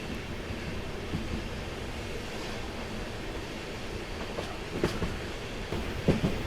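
Inside the Narasapur–Tirupati express on its first run, just past Palakollu station, a steady rumble of wheels on rail carries on throughout, with faint rhythmic clacks and a few brief knocks over the joints.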